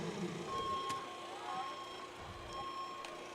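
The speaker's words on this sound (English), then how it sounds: "So it looks like the fire alarm has been pulled here at Hinchliffe Stadium." At a football stadium, a fire alarm sounds as a repeating electronic beep with a steady tone, moderately faint over the crowd murmur of the venue.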